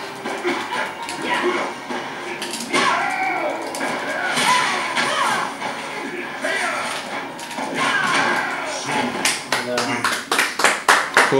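Hands clap at a Mortal Kombat tournament in Rostov-on-Don, with scattered claps under ongoing talk and crowd noise, then a quick run of loud, sharp, rhythmic claps near the end.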